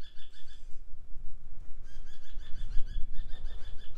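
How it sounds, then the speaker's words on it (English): A bird calls from a wire above a cactus garden in Strathmerton, Victoria, with repeated bright chirps in short clustered bursts over a low rumbling outdoor background of wind or handling noise. "You can see a bird up on the wire up here as well."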